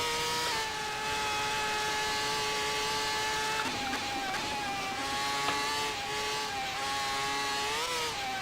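A 1995 Ferrari Formula 1 car screams around the Nordschleife, its high-pitched engine holding a sustained whine that dips and climbs through gear changes and throttle lifts.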